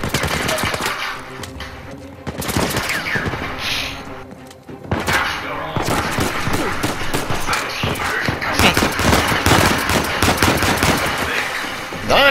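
Sustained automatic weapon fire from an Uncharted 4 firefight rattles almost without pause, dense and loud, with short breaks and thuds mixed in, and a voice is faintly present beneath the shooting.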